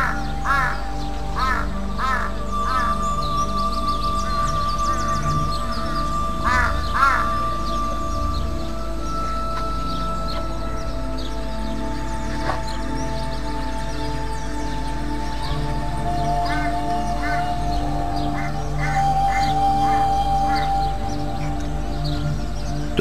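Ravens caw repeatedly while stealing food from an eagle, harsh calls in irregular bursts over a steady outdoor rumble, some near and some farther off, with no talk.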